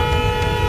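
A car horn honks in busy Lahore traffic, one loud, steady, sustained blast held for the whole moment with no pause.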